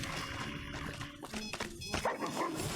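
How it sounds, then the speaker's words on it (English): A robot dog in the video game Fallout: New Vegas gives short, close barks and whimpering yips, mixed with brief game thuds. "Robo-dog."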